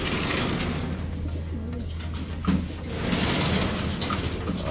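Pigeons coo softly in a loft as the birds are shooed outside, the low murmuring calls steady under a constant background hum, with a brief knock or shuffle midway.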